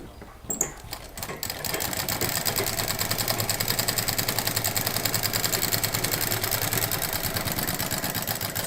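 A sewing machine stitches fabric pieces together for a patchwork bedsheet, running in a loud, steady, rapid whir for most of the clip after a few handling noises at the start.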